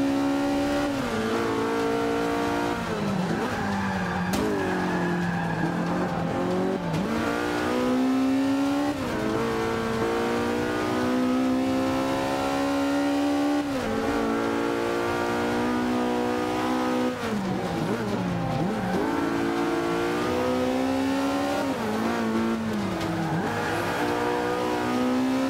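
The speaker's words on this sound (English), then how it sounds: "the second gear revs really high" Race car engine in Forza Motorsport 5 at Spa, revving hard and high through repeated gear changes, each rising whine cut off by a shift, loud and continuous with occasional tire squeal.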